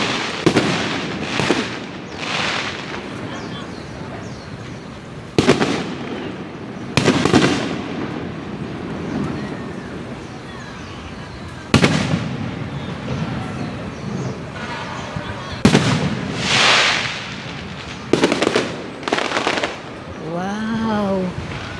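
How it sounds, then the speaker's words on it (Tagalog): Fireworks burst in a series of loud booming explosions at irregular intervals, with crackling tails and a whistling rocket near the end, while excited voices talk between the blasts. "First time ko makikita ng ganitong fireworks."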